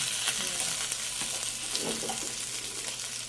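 Pork adobo with potatoes sizzles and fries in oil in a home kitchen, a steady close hiss with a brief stirring scrape partway through and no voices.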